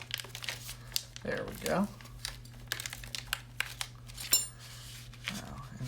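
Tough plastic packaging crinkles and crackles as it is torn open, with a few close rustles and sharp snaps under a steady low hum, while someone speaks briefly.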